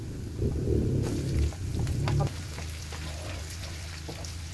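Garlic and onion sautéing for pakbet give a steady, close sizzle and frying hiss in the pan, with a few stirring clatters and a low rumble underneath.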